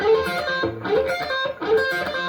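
A short distorted electric guitar lick, a quick run of bent and sliding notes played twice, loud and close with no talking.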